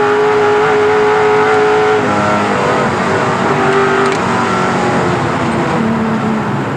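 Race cars passing during the 1987 Bathurst 1000, a loud continuous engine roar with shifting tones as cars go by, dense and close throughout, with no talk.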